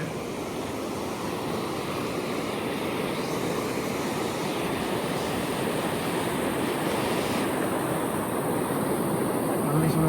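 Floodwater rushes under a small roadside bridge on the road toward Vattakachchi, below a reservoir with all its spillway gates open, a loud, steady broadband roar with no breaks.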